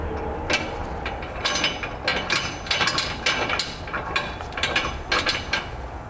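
A hand ratchet tightens a flange nut onto a bolt at the rear bumper beam while a Curt trailer hitch receiver is fitted to a 2018 Ram 1500, giving quick bursts of close metallic clicking in repeated strokes.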